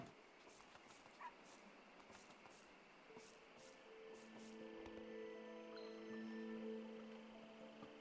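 A dog whimpers and gives soft high yips in the video game Endling, faint and intermittent over a quiet ambient music bed with sustained tones.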